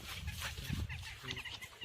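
Chickens clucking softly nearby, a few short scattered clucks over a quiet, rustling background.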